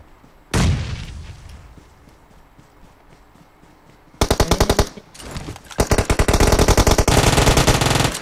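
Gunfire in the PUBG Mobile battle royale game: a sharp loud shot, then bursts of rapid automatic fire that turn into sustained, dense volleys, close and loud with no talking.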